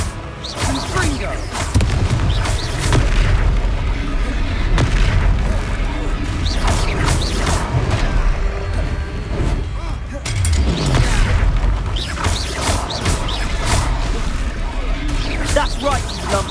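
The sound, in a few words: Confringo blasting spell explosions, Hogwarts Legacy video game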